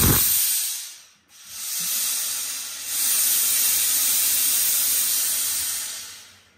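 A loud, steady hiss of steam from a steam iron with a boiler, just descaled, broken by a short pause near the start, then continuing strongly before tapering off.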